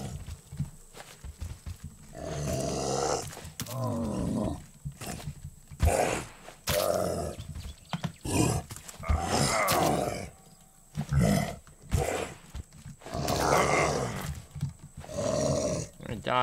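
A bear roars and grunts in the survival video game Raft, loud bursts repeating through the clip and mixed with a player's frequent excited talking.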